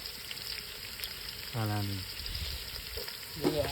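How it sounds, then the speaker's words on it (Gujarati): Green garlic tossed into a hot pan gives a steady sizzle and frying crackle, with a voice speaking briefly over the cooking in an outdoor setting. "લસણ લીલું લસણ નાખી રહ્યા છે"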